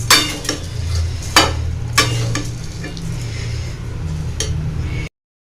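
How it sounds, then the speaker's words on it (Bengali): Rice and lentils fry and get stirred in a pan, a steady sizzle broken by several sharp scrapes and clinks of the spoon against the metal, close and continuous before stopping abruptly. "চাল আর ডালটাকে আমি খুব ভালো করে ভেজে নেব।"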